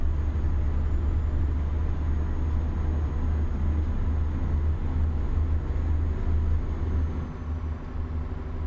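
Truck in Euro Truck Simulator 2 cruising steadily, its low engine drone and constant road rumble heard from inside the cab with no talking, easing slightly near the end.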